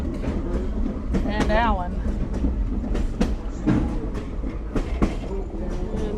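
From inside a caboose on the Lehigh Gorge Scenic Railway, wheels clack in a steady rhythm over rail joints beneath a continuous rumble, while people talk nearby.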